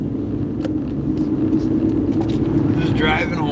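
A car driving home along a road in traffic, a steady low engine and road rumble running continuously and fairly loud, with brief higher noises near the end.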